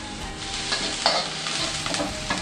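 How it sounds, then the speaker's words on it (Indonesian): Garlic stir-frying in oil in a wok for a dish of young taumiu greens, tofu and dried clams, a steady close sizzle with bursts of stirring and scraping, no talk. "bawang putih oseng harum"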